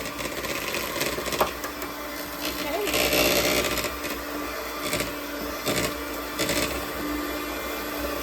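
Electric mixer whirring through chocolate pound cake batter at home, a steady motor drone with slight rises in pitch and load, while someone talks over it.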